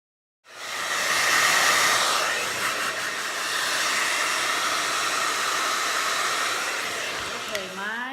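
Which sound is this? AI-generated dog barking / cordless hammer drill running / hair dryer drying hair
hair dryer drying hair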